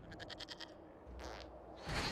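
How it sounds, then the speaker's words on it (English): Goat bleating in the Dragon Age: Inquisition video game, a short wavering bleat at the start followed by quieter game noises, faint overall with no talk. "we discovered this man attacking the building with a"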